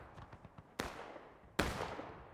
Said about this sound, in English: Got some fire coming down from the LFL cannon.